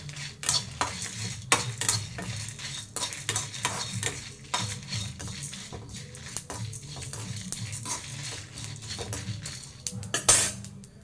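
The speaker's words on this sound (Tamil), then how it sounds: "இது கொஞ்சம் நல்லா வறுத்துக்கணும்." Chicken curry masala being stirred and fried in a pan, with repeated scraping and clinking of a spoon against the metal over a steady low sizzle, close and moderately loud, no voices.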